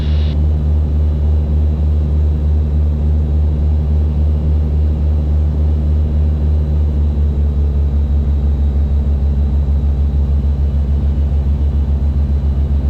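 A Piper Aztec twin-engine airplane taking off on its flight home after all its fuel bladders were replaced, its propellers and engines making a loud, constant low thrum and rumble heard from inside the cabin, with no talk.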